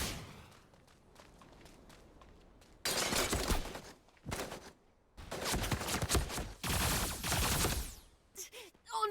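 Bursts of video game gunfire, loud and crackling, come in several separate volleys with short gaps between them, some stretches sounding like rapid fusillades, and quieter footsteps and background game noise fill the space in between.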